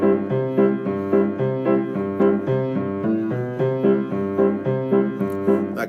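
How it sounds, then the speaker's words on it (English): A piano plays a basic show-tune, theater-style accompaniment, with a steady bouncing chordal rhythm over a walking bass line, clear and close with no voices. "So that's a basic show tune,"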